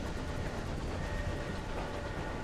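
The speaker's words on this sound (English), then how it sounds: "And back out into space train we go." A space locomotive from the video game Sunless Skies travels with a dense, steady rumble and a faint rhythmic rail-like clatter, loud and continuous without speech.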